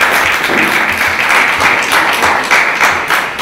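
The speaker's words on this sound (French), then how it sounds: "Chers pépites, je vous demande de faire beaucoup d'applaudissements pour vraiment Maïga." An audience claps loudly and steadily for a speaker at a marketing training event, a close, dense wash of many hands applauding without pause for the whole stretch.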